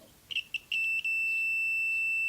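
A few quick high-pitched electronic beeps from a continuity tester on Audio-Technica ATH-M50 headphone wiring, then a steady continuous beep tone that holds to the end, faint and alone.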